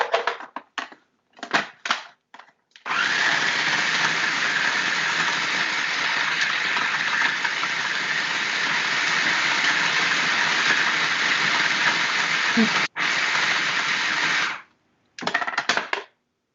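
A food processor blends a chocolate, peanut butter and oat mixture, whirring loudly and steadily for about twelve seconds with one brief dip, framed by short bursts of pulsing at the start and end.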